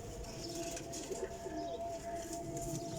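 Pigeons, Teddy and golden flying breeds kept for racing, coo softly in a low repeated murmur against steady background noise, faint and somewhat distant, with no talk.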